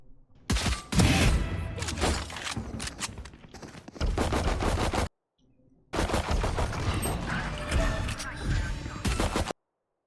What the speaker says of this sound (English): Why are we shooting at the eye that already revealed you?